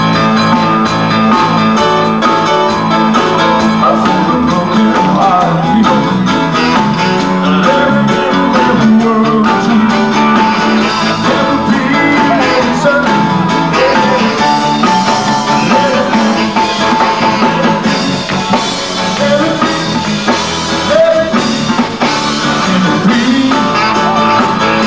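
A band plays a song with a singer, full and continuous with drums, guitars and vocals throughout.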